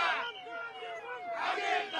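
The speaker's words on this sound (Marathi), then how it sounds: "या ठिकाणी जल्लोष जो आहे तो सध्या सुरू आहे।" Supporters of Ajit Pawar celebrate as the Malegaon cooperative sugar factory election result comes in, a loud crowd shouting and chanting slogans in two strong bursts with a steady roar between them.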